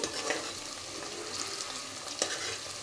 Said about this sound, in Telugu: కరివేపాకు పచ్చిమిరపకాయలు కూడా వేసుకున్నాం కదండి ఇవి కూడా వేగాలి